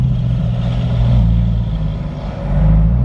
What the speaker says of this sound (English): I'm gonna give you guys the sound clip now of what it sounds like with the exhaust